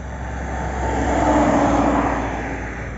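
A vehicle drives past, its engine roar swelling toward a peak near the middle and then fading as it moves away, steady and fairly loud with no talking.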